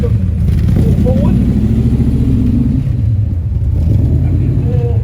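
A Cobra car idles with a low, steady exhaust rumble throughout at a Sporting Bears car event, with voices talking over it.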